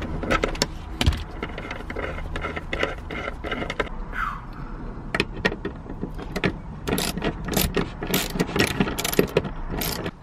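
Ratchet wrench clicking repeatedly while undoing interior bolts on a Porsche 996, a busy run of sharp, close mechanical clicks with brief pauses, loud and steady throughout.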